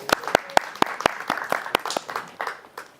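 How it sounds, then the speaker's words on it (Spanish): Audience clapping for a volunteer named Marcos at a seminar: a burst of sharp, fairly regular claps from a small group, moderately close, with a faint murmur of voices underneath. "Vamos a darle un fuerte aplauso a Marcos"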